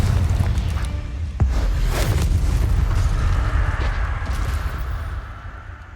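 Confringo fire-blast spell in Hogwarts Legacy: a loud booming blast with a sharp crack near the start, then a sustained rumbling roar that slowly fades.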